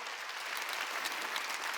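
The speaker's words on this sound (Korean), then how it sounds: "박수로 하나님께 영화 돌려" A church congregation at a Wednesday worship service breaks into sustained applause, a dense, steady wash of many hands clapping at even loudness throughout, with no voices over it.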